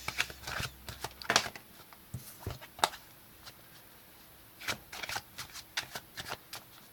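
A deck of playing cards is shuffled close up in quick, crisp bursts of riffling and flicking, with short pauses between the bursts.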